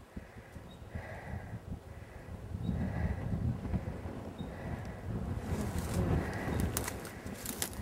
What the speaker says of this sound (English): We're getting a lot of wind.